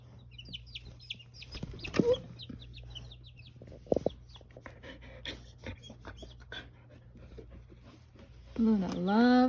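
Baby chicks cheep in high, rapid peeps, with a dog panting nearby and a person talking over them.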